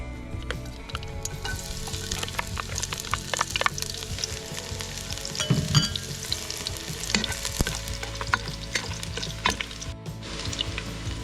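Garlic sizzles in hot olive oil in a pan during outdoor cooking, a steady crackling fry with sharp pops and stirring scrapes, loud and close, no voices.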